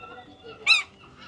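A seagull gives a single short, sharp call near a tower, standing out briefly above faint background noise.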